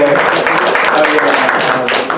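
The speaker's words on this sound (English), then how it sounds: "Round of applause for Cam" Improv comedy audience applauding a newly introduced performer, a steady dense round of clapping with some cheering and voices mixed in, loud and continuous.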